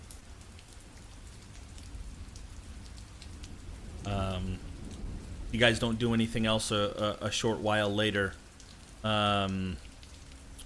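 Rain falls outside as a soft, steady patter in the background, with voices speaking over it partway through, including a brief sung-like tone.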